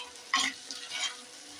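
Country chicken curry is stirred in a frying pan, two short scraping sizzles close by and no one speaking.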